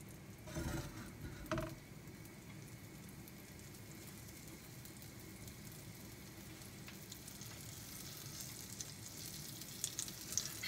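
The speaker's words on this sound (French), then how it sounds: "je mets une belle cuillère de beurre clarifié et je fais dorer une première face de ma viande." Filet mignon sears in clarified butter in a hot pan, making a faint, steady sizzle. A couple of quick clatters sound near the start. There is no talking.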